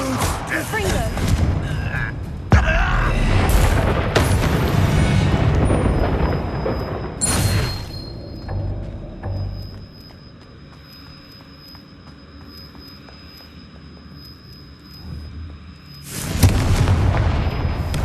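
A Confringo blasting spell from Hogwarts Legacy goes off in a few loud, booming explosions, with a quieter, rumbling stretch between the blasts.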